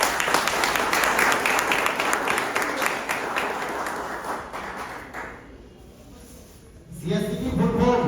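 An audience at a CSC service center's third-anniversary celebration bursts into loud, dense applause that thins and fades over several seconds before a voice resumes.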